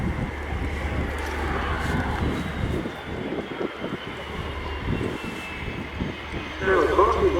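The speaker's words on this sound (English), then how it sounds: "in over the threshold to complete his display, Staff Test Pilot Martin Donaldson with the Gripen key" A Saab Gripen fighter jet at the RIAT 2025 air show, rolling out after its flying display, gives a loud, steady engine roar while an announcer talks over it.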